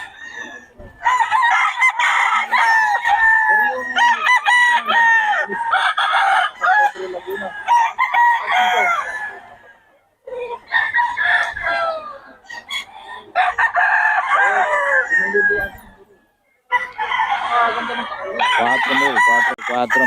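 Stag roosters crow repeatedly at a gamefowl farm, several loud overlapping cock-a-doodle-doo calls close by with brief pauses between bursts, and a few clucks mixed in.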